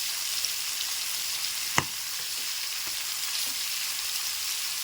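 Chicken frying in a pan gives off a steady, dense sizzle, heard close and continuous, with one sharp click partway through and no talk.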